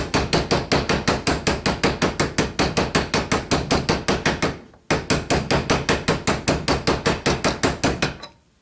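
Rapid, steady hammer blows ring out loud and close as a front wheel bearing is driven into a Yamaha Kodiak or Grizzly ATV, two long bursts of metallic strikes separated by a brief pause, the rhythm slowing slightly as each run ends.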